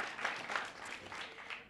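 Audience clapping at an NAACP Phenomenal Women awards ceremony in Brockton, a brief burst of steady applause from a room of people, moderately distant and fairly soft.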